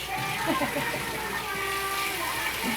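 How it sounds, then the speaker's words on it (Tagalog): Water runs and splashes steadily from a tap nearby while a person talks over it. "lalagyan po natin siya ng tubig sa gripo"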